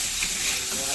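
Potatoes frying in a pan give off a steady, loud, close sizzle that fills the whole second without a break.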